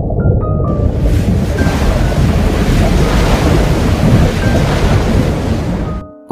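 Loud sea waves crash and surge continuously with a roaring, windy wash, building and rolling for several seconds before cutting off abruptly, with no voices.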